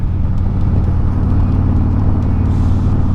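Steady low rumble of a Harley-Davidson Road Glide 3 motorcycle engine cruising on a test ride, a constant close drone with no voices over it.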